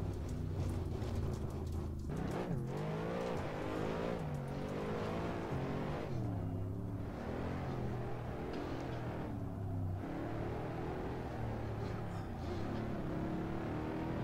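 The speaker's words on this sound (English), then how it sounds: "But that is the Mercedes SLS AMG." Mercedes SLS AMG in the Assetto Corsa racing simulator, its engine droning and shifting pitch as it runs off-road, with revs rising and falling steadily throughout and no speech.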